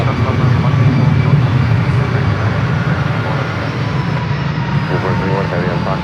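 A KLM airliner at San Francisco airport, a broad continuous jet engine roar heard from a distance, steady throughout, with faint voices underneath.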